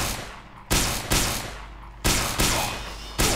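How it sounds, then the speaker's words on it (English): Sharp, loud laser rifle blasts from the LAER in Garry's Mod, four separate shots spaced irregularly, each a bright crack that decays into a hissing tail, with no talk. "Now the next weapon is the LAER. So watch this. One headshot."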